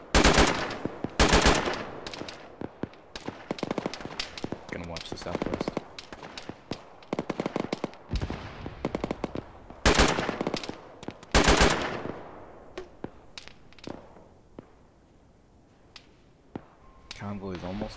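Bursts of automatic and single-shot gunfire in an Arma military shooter game, ShackTac squad play, crackle loudly in rapid clusters with near and distant shots, broken by short pauses and occasional radio talk.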